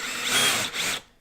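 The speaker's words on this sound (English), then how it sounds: "If you take just your Phillips bit after your hole and just grind at that" A power drill with a Phillips bit grinds at a screw hole in fiberglass, one steady close whirring burst of just over a second that dips briefly before stopping.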